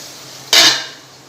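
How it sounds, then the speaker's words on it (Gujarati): A lid is set onto a cooking pot of simmering tomatoes in a home kitchen, giving one sharp metallic clank that rings briefly and fades, fairly close and alone with no talk. "ઢાંકણ ઢાંકીને."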